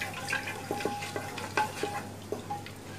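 Beef being stirred in a frying pan while cooking down, with a string of soft scraping stirs and light clinks of the utensil against the pan over a steady low sizzle, close by.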